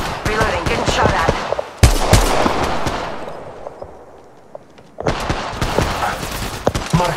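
Rapid automatic gunfire in Apex Legends Mobile, bursts of sharp close shots, a lull with fading reverberation around the middle, then another loud flurry of firing.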